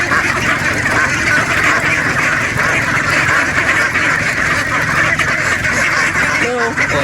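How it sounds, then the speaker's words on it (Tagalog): Many farm ducks quacking loudly and continuously at close range on a rainy duck farm, a dense overlapping chorus with no pauses. "Nagantay na dito yung ating mga itik."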